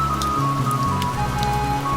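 Rain patters continuously beneath a sustained, humming tonal background, steady and even throughout.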